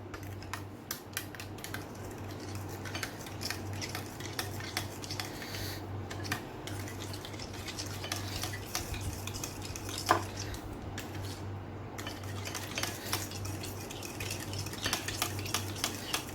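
Milk and egg whisked together in a bowl for Nutella chocolate French toast, a steady run of soft clinking and scraping strokes against the bowl, close and continuous with no voices.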